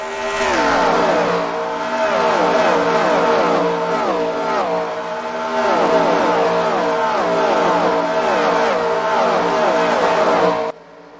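Race cars in a More Freedom Series round at New Hampshire International Speedway roar down the front stretch, a loud, continuous pack of engines with layered, shifting tones that swell and fade as the cars pass close by, then cut off abruptly at the end.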